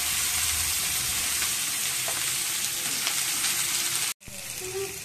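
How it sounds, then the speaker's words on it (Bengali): Bitter gourd (uchche) fries in a hot wok with a loud, steady sizzle that fills the whole stretch, broken by a brief gap near the end before the crackle resumes. "কড়াইতে উচ্ছে দিয়ে দিলাম এখন।"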